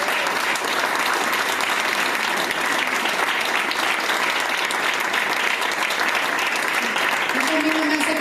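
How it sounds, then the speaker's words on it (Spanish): A church congregation applauds loudly and steadily: a dense wall of clapping from many people fills the whole stretch without letting up, with a voice rising over it near the end. "Si le voy a aplaudir, apláudale fuerte a mi Señor."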